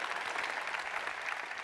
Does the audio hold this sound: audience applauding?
yes